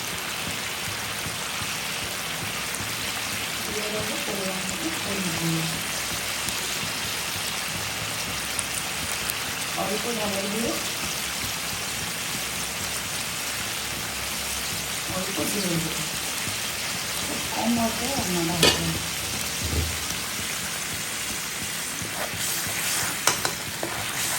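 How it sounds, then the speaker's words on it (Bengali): Ginger, garlic, onion, tomato and chili masala sautéing in oil, a steady broad sizzle throughout with occasional scraping stirs and a few soft voices murmuring in the background. "ভালো করে কষাবো যতক্ষণ মশলা থেকে তেলটা বেরিয়ে যাবে"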